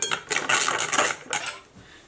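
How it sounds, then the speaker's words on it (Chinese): Tomato and starch mixture stirred in one direction, brisk metallic clinking and scraping of a utensil against a bowl in a few quick strokes, close and clear with no talk. "然后将它朝一个方向搅拌"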